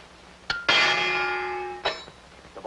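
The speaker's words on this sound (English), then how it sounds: "And here's the bell." A boxing ring bell starts the round in a 1942 fight scene: a short tap, then one loud ringing clang that sustains and slowly fades, followed by another sharp strike near the end.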